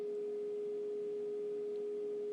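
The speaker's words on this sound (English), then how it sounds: "So a binaural beat is just a simple sound like this." A single pure, steady binaural beat tone held at one pitch, quiet and unchanging, with a faint background hiss.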